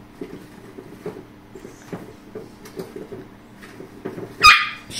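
Dogs whimpering and whining behind a barrier, soft repeated cries at close range with light pattering, and a sharp yelp or squeal near the end.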